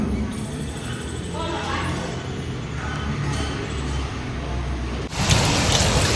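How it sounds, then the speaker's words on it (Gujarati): Steady rain pours down outdoors as a dense, even hiss that swells briefly near the end, with faint voices mixed in. "તો અત્યારે હું આવી ગયો છું વરસાદમાં નાવા. વરસાદ આવે છે"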